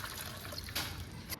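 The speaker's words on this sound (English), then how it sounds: "When the onions are light golden, add 6 cups of water" Water pours steadily into a cooking pot of light golden onions and cumin, a continuous close trickle and splash with a brief louder gush partway through and no talking.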